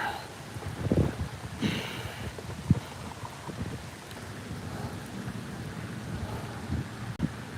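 Steady outdoor wind rushes and buffets the microphone during a bass fishing trip with buzzbaits, a continuous loud roar with a few harder gusts and thumps, no speech.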